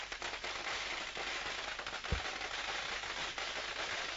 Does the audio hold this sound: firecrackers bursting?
yes